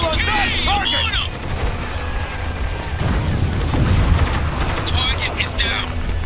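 Rifle gunfire in the shooter game Spec Ops: The Line, dense overlapping shots and bursts forming a loud, continuous barrage, with soldiers shouting over the battle.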